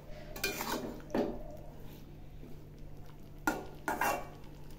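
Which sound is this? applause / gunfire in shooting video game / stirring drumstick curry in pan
stirring drumstick curry in pan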